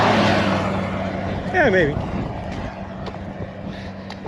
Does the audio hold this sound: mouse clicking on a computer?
no